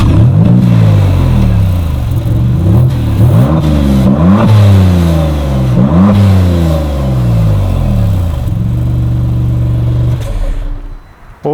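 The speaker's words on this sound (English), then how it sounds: "let's see just how how loud this car is without a Novitec exhaust." Stock-exhaust Maserati MC20 supercar engine revving hard and loud in repeated rising and falling bursts close by, then settling to a steady idle before cutting off near the end.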